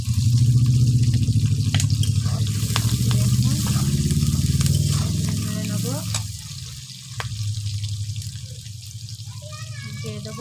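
Green chillies and rupchanda fish fry in hot oil, a steady crackling sizzle with stirring clatter, while someone talks over it.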